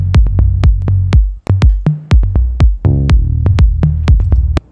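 A driving organic house groove with a deep, pulsing bass line under steady kick hits and crisp percussion, loud and continuous with a brief dropout midway.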